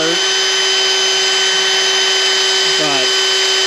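A power drill boring into metal held in a vise on a cart whines at a steady high pitch, with a brief sliding tone as it loads partway through, loud and close.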